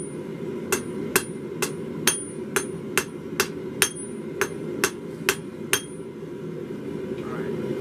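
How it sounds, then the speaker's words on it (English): A blacksmith's hammer strikes hot metal at the tip of the workpiece in about a dozen evenly spaced, ringing blows, close and loud over a low background rumble, stopping shortly before the end. "roll back up this way with the hammer"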